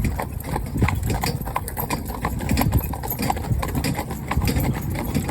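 Steady clip-clop of working horse hooves on a hard road, close by and rhythmic, with a low engine hum in the background.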